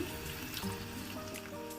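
Water is poured from a small tea glass into a pan of frying egg masala, a brief faint splashing and gurgling pour with no talk.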